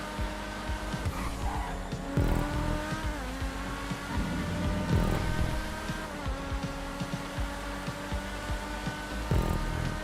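A video game car driving fast downhill and braking, engine drone with tire squeal and skidding bursts coming and going at close range, loud and continuous.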